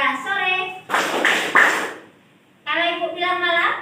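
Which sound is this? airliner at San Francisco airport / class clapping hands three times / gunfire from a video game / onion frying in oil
class clapping hands three times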